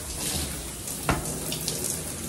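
A cold shower runs in a steady hiss of falling water, close and continuous, with one brief knock or splash partway through.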